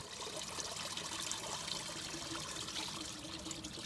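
Clay and water mixture poured through a sieve into a container, a steady close trickle and splash that holds at an even level throughout, with no voices.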